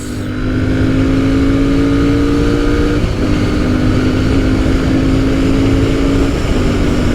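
A 2021 Royal Enfield Continental GT 650 parallel-twin motorcycle accelerates hard through the gears, loud close engine drone with steady rising pitch and a brief shift dip, no talking.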